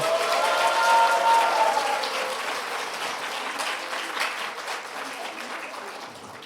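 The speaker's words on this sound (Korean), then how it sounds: "박수가 소리가 좀 적은 것 같아서 다시 한번 박수할까요?" Church youth group applauding during a Sunday service, dense clapping that starts strong and gradually thins and softens, with faint voices underneath.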